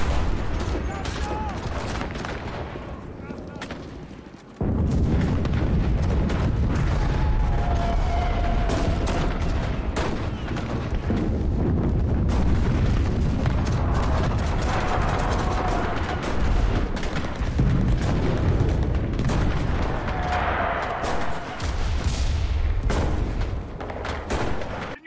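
Rocket launcher shots and explosions in the World War II shooter Enlisted, continuous loud battle noise with booms, rumbling blasts and scattered gunfire throughout, no clear speech.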